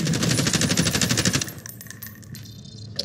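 Rapid automatic gunfire in Call of Duty: Warzone, a loud, dense burst lasting about a second and a half that breaks off into scattered, fainter shots and game noise.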